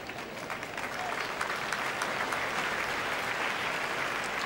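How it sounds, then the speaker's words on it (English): Crowd at a Wimbledon quarter-final tennis match applauding the players, a broad even wash of clapping from a large stadium audience that swells slightly after the first second and holds steady. "already they're applauding the players as they return to their positions at the baseline"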